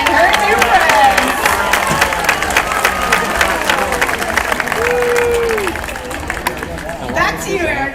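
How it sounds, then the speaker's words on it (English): A crowd at a SeaWorld dolphin show in San Diego breaks into loud, sustained applause and cheering, with chatter mixed in and a voice briefly heard over the clapping. "let's give a big round of applause to Corona and her new friends"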